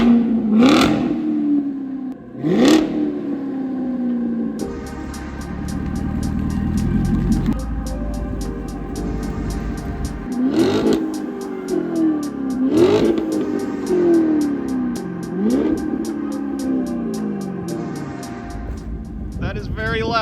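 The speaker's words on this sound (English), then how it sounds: "Dang, that's got a good rumble to it." A Chevrolet Corvette engine revving through a new exhaust, a deep rumbling idle punctuated by several sharp throttle blips that rise and fall, loud and close, with people talking over it.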